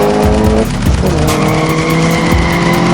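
A car in an action film charges toward a battle front line, engine revving loudly with tire squeals and skidding over a pulsing, tonal score, close and forceful throughout.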